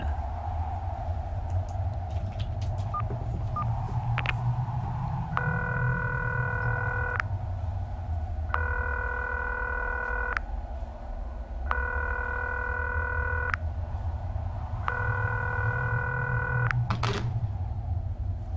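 Unanswered phone call in the PS1 horror game Concluse, four evenly spaced electronic ring tones, each lasting about two seconds with pauses between, over a steady low hum.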